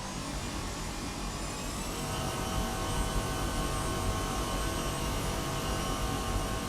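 A steady, even drone of aircraft engines, turboprops and jets at an airport in the Airport CEO management game, hums continuously with faint tonal whine and no changes in level or any voices.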